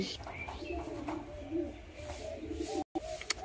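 Pigeons of a fancy Madras breed give low rounded coos in a loft, repeated throatily at moderate distance, with a brief dropout near the end.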